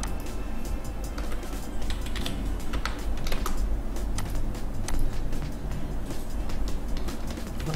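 Rapid keystrokes on a computer keyboard, an uneven run of close, crisp taps continuing throughout with no talking over it.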